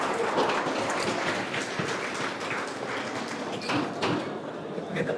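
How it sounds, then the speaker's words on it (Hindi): Students in a classroom session for SSC CGL exam preparation give a student named Yash a round of applause. The clapping is a dense, continuous patter at moderate volume, with scattered knocks and thumps. "यस के लिए ताली हो जाती"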